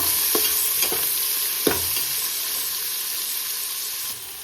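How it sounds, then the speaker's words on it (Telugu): Chopped onions and green chillies stirred in a hot pan for egg pulao, a steady broadband sizzle with a few distinct spoon scrapes near the start, close and moderately loud, no voices. "ముందుగా కట్ చేసి పెట్టుకున్న ఆనియన్స్, ఒక 2 ఆనియన్స్ అయితే సరిపోతుంది. ఇట్లా ఒకసారి కలుపుకోవాలి."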